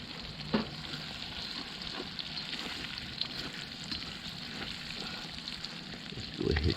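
Eggs fry in a wok over a campfire with a faint, steady sizzle, broken by occasional light clinks and scrapes of stirring.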